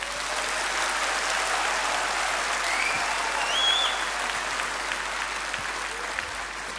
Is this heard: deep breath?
no